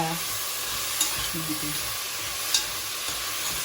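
Cabbage being stir-fried for lagman crackles and sizzles steadily in a hot pan, with a few sharp scrapes and clinks of stirring up close.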